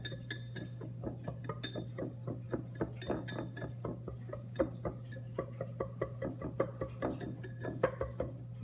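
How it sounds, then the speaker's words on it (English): A small whisk clinks rapidly and steadily against a bowl while breaking up clumps of dry pork rub, a bright metallic ticking heard alone with a low background hum. "a little whisk. I'll whisk it around. Get all the clumps out."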